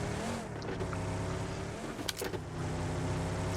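Steady engine drone from a car in a racing-style video game, holding a flat, struggling tone across the whole stretch with a brief clatter midway, no voices over it.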